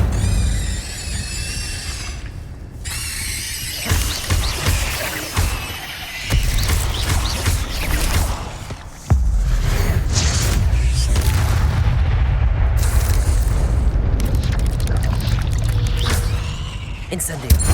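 Incendio fire spell cast in Hogwarts Legacy, a deep booming whoosh and burst of flame amid other spell effects, loud and close, repeated impacts over a rumbling low bed of game sound, with some voice present.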